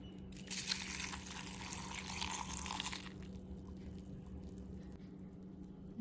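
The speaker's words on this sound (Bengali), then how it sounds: "কর্নফ্লেক্সটা দিয়ে দিচ্ছি এবার দুধটা ঢেলে দেবো" Milk is poured over cornflakes in a bowl for a healthy breakfast. A soft, close liquid splash lasts about two and a half seconds and then gives way to a quiet steady room hum.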